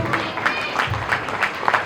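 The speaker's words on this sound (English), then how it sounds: "Please give us huge round of applause." Modest applause at a Ganesh Chaturthi committee appreciation event, soft and somewhat diffuse, with a few clapping hands heard over a background of crowd murmur.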